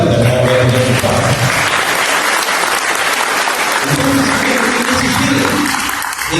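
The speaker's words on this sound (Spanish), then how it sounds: "un fuerte aplauso para el maestro Cerdá" Loud, dense applause from an audience greets maestro Cerdá, sustained evenly across the whole stretch, while a voice talks over the clapping.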